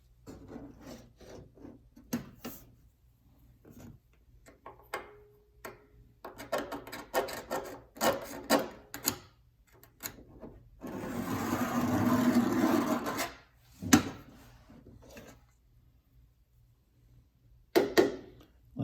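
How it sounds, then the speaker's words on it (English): A worn pair of tin snips cuts through rusty car body sheet metal in a garage, giving intermittent scraping crunches and clicks with a longer grinding rasp midway, close but fairly quiet, with no talking. "I am just using some wore out pair of tin snips"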